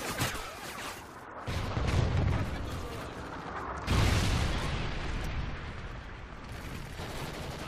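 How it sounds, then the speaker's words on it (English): Video game rocket strike, a friendly Trinity rocket, sets off heavy, continuous rumbling blasts with two big booming surges and dense crackling debris, loud and close throughout. "Friendly Trinity rocket inbound."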